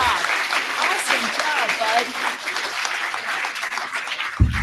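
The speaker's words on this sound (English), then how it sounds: "Let's give Owen a big round of applause" Audience applause fills a governor's weekly press conference after a child named Owen finishes his speech, a steady wash of clapping lasting several seconds with brief speech-like sounds mixed in and a thump near the end.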